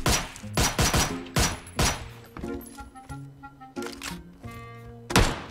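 Beryl rifle bursts crack out in a battle royale video game, a run of sharp, close shots in quick clusters with brief pauses, while faint tonal game sounds hum between them.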